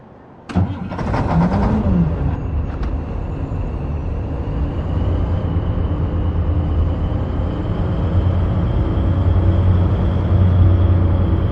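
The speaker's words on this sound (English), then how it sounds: "So we're gonna go and attach the trailer now." A Volvo semi truck in the Truck and Logistics Simulator video game cranks and starts with a brief whine, then settles into a loud, steady diesel idle that hums on with a slight rise near the end.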